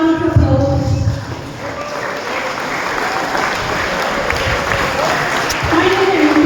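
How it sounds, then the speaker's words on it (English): Audience at a peace festival valedictory program rising for a standing ovation, dense applause sustained throughout, with a voice speaking briefly at the start and again near the end over the clapping. "Can you all stand and give a round of applause?"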